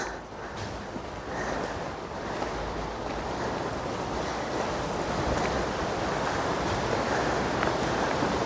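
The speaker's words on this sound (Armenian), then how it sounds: "քամի է, շոգ է, բայց քամի է" Steady wind gusts outdoors on a hot day in open country, a continuous broad rushing roar buffeting the microphone for the whole stretch, with no voices.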